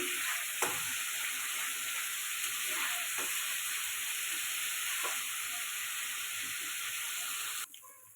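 Spice paste for prawn malai curry sizzles steadily in a hot pan, a continuous close frying hiss with a few faint scrapes, cutting off abruptly near the end.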